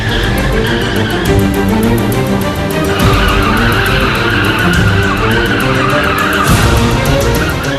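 A police car's tires squeal and skid on asphalt during driving training, a loud, continuous screech with engine noise throughout and no talking.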